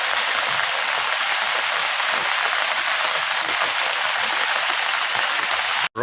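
A heavy downpour falls outdoors over flooded, waterlogged surroundings, an unbroken, loud, close hiss with no voices, cutting off abruptly at the very end.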